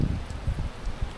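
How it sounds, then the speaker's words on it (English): Heavy November rain pounds down outside a garage, a dense, steady wash of falling water with soft irregular patters, heard alone for a brief moment. "that is the rain absolutely battering down outside"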